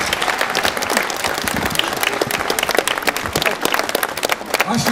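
A crowd claps steadily at an outdoor celebration marking fifteen years of Lithuania's EU membership, attended by the President. The applause is loud, dense and continuous throughout.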